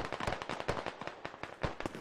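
Gunfire in the military shooter game Squad: a rapid, irregular string of sharp cracks, fired as warning shots over enemies near a fort, sounding moderately faint with no voices.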